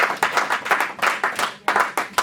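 A church congregation claps in praise of the Lord, a quick, uneven run of several hand claps, close and lively, with no voices over it.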